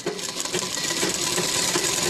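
A sewing machine stitches the lining of an anarkali frock near the armhole, a fairly quiet, continuous mechanical whir with a rapid needle rhythm.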